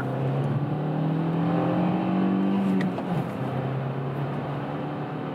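Compact SUV accelerating downhill on a test drive, heard from inside as a steady engine drone rising in pitch, then a gear change and a renewed pull, with road and wind noise throughout.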